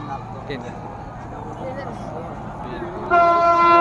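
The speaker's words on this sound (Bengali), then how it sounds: "এখনই ট্রেন আসছে" A train crossing the Banashua rail bridge beside the Gomti River in Comilla sounds a loud, sustained horn near the end, after a stretch of rumbling outdoor ambience with people talking.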